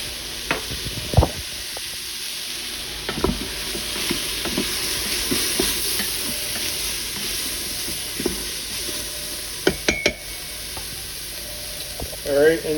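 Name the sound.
sautéing sausage and vegetables with garlic powder in Instant Pot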